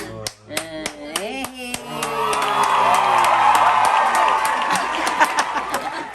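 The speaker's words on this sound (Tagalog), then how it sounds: "Palakpak lang." A group bursts into clapping and cheering after singing, with hands slapping in a dense, rising flurry, whoops and voices mixed in, close by and fairly loud.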